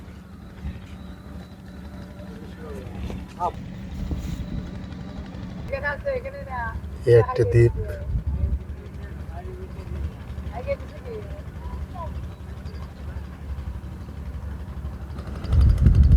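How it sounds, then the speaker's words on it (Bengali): A country boat's engine drones steadily as it labours against a strong river current near Belkuchi, Sirajganj, a low continuous rumble with small surges, close by, while someone talks over it. "নৌকাটা অনেক কষ্টে যাচ্ছে অনেক স্রোত"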